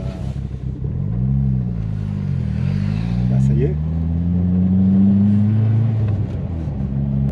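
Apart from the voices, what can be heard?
Ford Fiesta RS Turbo engine revving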